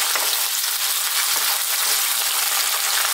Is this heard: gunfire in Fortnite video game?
no